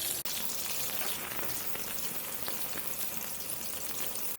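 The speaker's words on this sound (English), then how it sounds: "So we'll fry the baingan in batches. Keep the oil hot." Eggplant (baingan) pieces frying in batches in hot oil give a dense, steady crackling sizzle that stays loud and close the whole time, with no voices.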